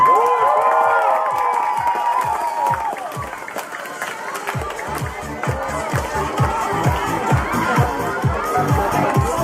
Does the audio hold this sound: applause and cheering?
yes